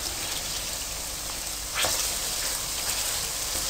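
Chicken pieces dropped into a pan of onions fried for a minute for a spicy bhindi tikka, giving a steady hiss of sizzling that swells briefly as the pieces go in, with no talking.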